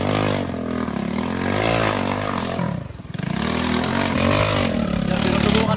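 A motorcycle engine that has long sat unused starts up and revs nearby, its loud harmonic drone rising and falling with the throttle and dipping briefly before roaring again.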